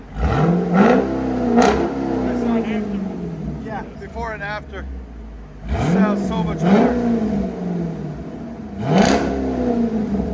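Dodge Durango SRT 6.4L HEMI V8 with aftermarket exhaust revs in repeated sharp blips, snarling up and settling back to a low idle nearby, with someone talking briefly between the bursts.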